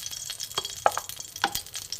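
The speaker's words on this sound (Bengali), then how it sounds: "সুজিতে আমি ঘি একটু ভেজে নেব।" Semolina toasting in ghee gives a soft, steady sizzle with a few light scraping stirs, close up and quiet, with no voices.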